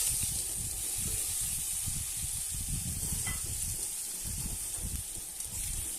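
Chopped bottle gourd fries in hot oil with five-spice seeds for a thin rohu fish curry, making a continuous hissing sizzle with gentle stirring rustles underneath.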